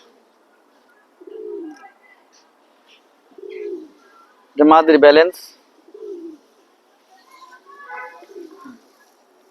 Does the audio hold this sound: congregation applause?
no